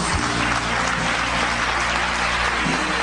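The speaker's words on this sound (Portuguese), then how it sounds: "Aplauda" Dense, steady applause from a church congregation fills the whole stretch, loud and unbroken with a constant hum underneath, no voices standing out.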